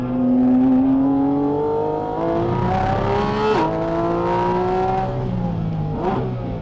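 A Porsche GT4 RS engine roars steadily on a race track, its pitch rising under load and then briefly dropping mid-way as the driver lifts off and shifts. The sound is loud, close and continuous, with no talk.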